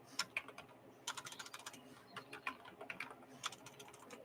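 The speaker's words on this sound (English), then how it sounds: "Well, if I can get the keyboard to work for me." Typing on a computer keyboard: quiet, irregular bursts of crisp keystroke clicks with short pauses between runs, close by and with no talking.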